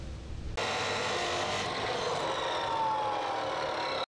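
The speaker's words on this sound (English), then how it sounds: "Using my Dremel here, the little one, to cut" A small Dremel rotary tool cuts into a plastic ram air scoop for a Maddog 50cc GY6 scooter, a steady high-pitched grinding whine that starts abruptly and runs continuously for several seconds before cutting off.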